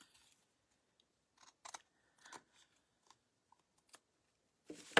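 Scissors trimming the edges of cardboard for a bunny craft: sparse, quiet snips and short cutting strokes with pauses between, close by, no voices.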